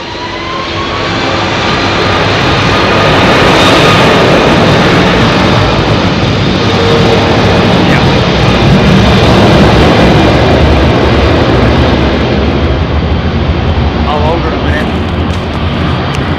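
An aircraft arriving on runway 27R at London Heathrow Airport, a loud jet engine roar that swells in over the first few seconds, holds as a heavy broad rumble, and slowly eases at the end.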